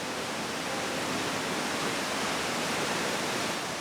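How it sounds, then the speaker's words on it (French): Salins waterfall in Cantal, France, roaring as a dense, steady wash of falling water, loud and close with no break or voices over it. "entre le bruit, l'eau, l'intensité de la chute"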